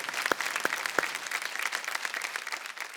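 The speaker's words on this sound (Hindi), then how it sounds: "स्नेहा जी आपके लिए जोरदार तालियां भाई" Hearty audience applause rises for a singer on a folk singing reality show, dense steady clapping filling the whole stretch with a few sharper claps standing out near the start.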